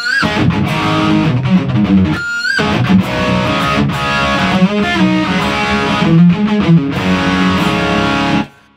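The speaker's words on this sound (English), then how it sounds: "it goes back to the intro riff, but we only play the second half of it, so it sounds like this." Distorted electric guitar plays the second half of the intro riff from a song, a loud, dense run of fast picked notes with a brief gap near two and a half seconds and an abrupt stop at the end.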